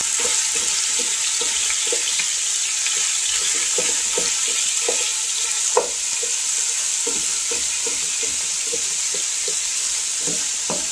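Two pounds of ground turkey sizzles steadily in a little oil in a pot, a constant close frying hiss with soft scraping stirs and occasional taps throughout.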